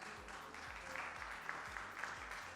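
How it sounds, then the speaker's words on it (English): An audience at a women-in-tech industry panel gives the panelists a round of applause, heard faint and distant, a soft steady patter of clapping with occasional low thumps. "Let's give them a big round of applause."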